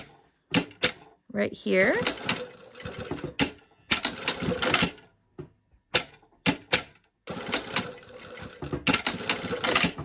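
A home sewing machine sews a very small zigzag bar tack on a pair of pants in short, rapid mechanical bursts, close and clear, with a person talking in between.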